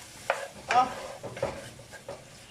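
Garlic stirred in a pot while making cheesy broccoli pasta, a few soft scraping stirs with a light sizzle underneath, close and fairly quiet, with no talking.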